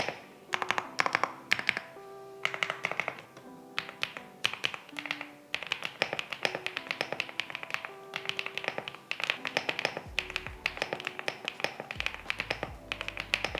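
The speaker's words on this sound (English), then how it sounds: "here is a sound test of this beautiful keyboard." Typing on a wireless computer keyboard, crisp close-up key taps in quick irregular bursts with brief pauses and occasional heavier thocks, no speech.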